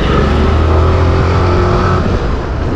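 A motorcycle ridden at speed, its engine droning steadily and loudly close by with constant wind and road roar and no talk.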